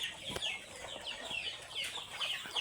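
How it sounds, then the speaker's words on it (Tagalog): Ducks on a rural farm give a scatter of soft, near quacks and clucks over a quiet outdoor background. No one speaks. "Tapos sa kabila naman po, ang ating mga itik."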